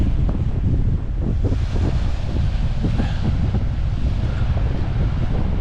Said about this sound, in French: Très froid et très venteux aujourd'hui.